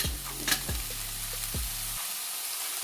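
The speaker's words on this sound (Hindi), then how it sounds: "फिर इसके अंदर हम वो यखनी ऐड कर देंगे जिसमें मैंने कॉर्नफ्लोर मिक्स किया हुआ है।" Chicken stock thickened with cornflour going into a hot pan for chicken bread filling, heard as a loud hissing sizzle with a few thuds and scrapes, under a steady low hum that cuts out near the end.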